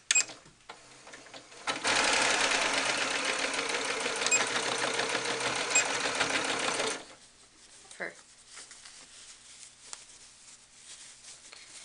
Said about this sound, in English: we'll have to put quite a bit of pressure on as it goes underneath the presser foot